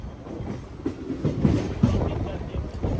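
A MEMU train pulls into Naupada Junction with a close, steady rumble and uneven clattering of wheels over the rails, and faint voices can be heard underneath.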